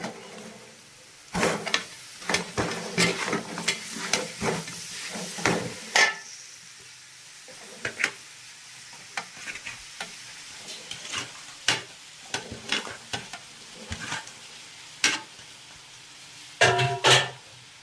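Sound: beef added to frying spice masala and stirred

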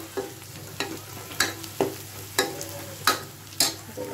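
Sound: frying chopped garlic with onions in a pan

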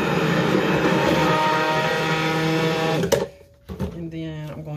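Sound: blender buzzing fragrance oil mixture

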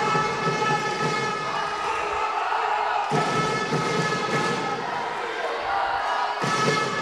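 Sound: handball fans cheering for Žalec

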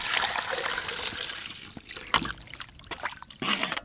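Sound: pouring coconut milk into curry

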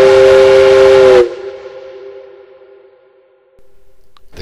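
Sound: loud train whistle

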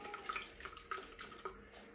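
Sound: water filling a container

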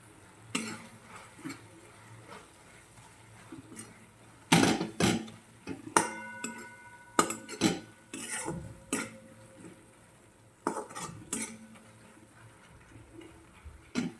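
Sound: stirring spices into leaf vegetable curry in a pan

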